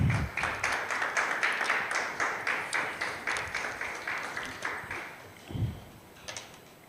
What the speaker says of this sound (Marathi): एक जोरदार टाळ्या देऊ बापाला